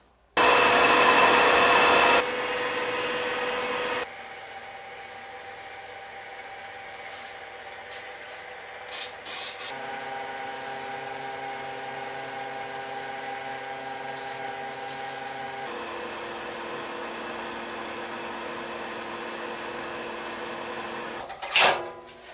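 A wood lathe turns a resin blank for an ice cream scoop handle, with steady high-pitched whirring and hissing as the tool cuts. The cutting is loud at first, then settles into a quieter hum with brief louder bursts and a final spike.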